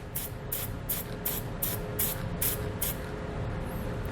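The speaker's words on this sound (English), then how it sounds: "just hit it with some black spray paint to cover it back up" Black spray paint is sprayed onto filed bare metal on a Jeep Grand Cherokee base plate in a run of short hissing bursts, about eight evenly paced puffs, close and fairly quiet.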